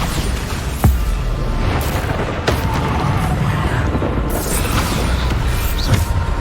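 Bombarda explosion spells from the Hogwarts Legacy video game boom repeatedly amid dense, continuous combat noise, with sharp blasts standing out near the start and middle over a loud, busy battle backdrop.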